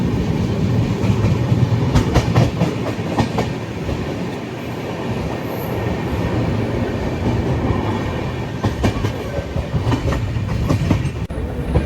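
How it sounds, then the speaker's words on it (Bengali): An Amrit Bharat Express train on the Malda to Lucknow route runs just after leaving a station, with a loud steady rumble and rhythmic wheel clatter heard from on board, no speech. "ট্রেন জাস্ট ছেড়েছে স্টেশন থেকে"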